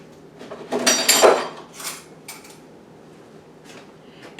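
Sliced cucumbers and onions are tossed together in a bowl, giving a few clattering utensil-on-dish knocks near the start, then softer scattered taps in a quiet kitchen.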